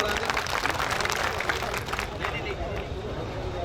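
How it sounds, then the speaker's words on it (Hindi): A crowd at a poetry recital breaks into loud, dense applause for the poet, a close, continuous clatter of many hands with some crowd murmur mixed in. "एक बार तालियां बजा के मेरा हौसला बढ़ा दे"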